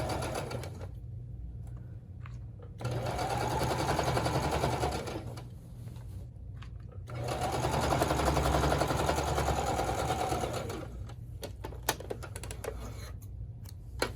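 A sewing machine runs in two sustained bursts of steady rapid stitching, each several seconds long, with short quieter pauses between and a few clicks toward the end. No one speaks.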